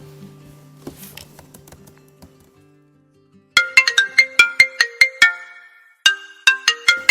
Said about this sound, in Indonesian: Ada Kak Oveda telepon nih Bu.